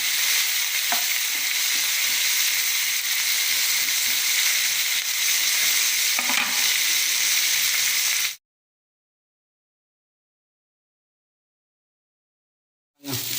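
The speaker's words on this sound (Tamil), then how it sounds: "அடுத்து நான் பீர்க்கங்காய் தோல் நல்லா வதக்கிடலாம்" Ridge gourd peel sautés in a hot pan with a steady, dense sizzle and hiss, close and constant with a few stirring scrapes, then it cuts to near silence before a brief return at the end.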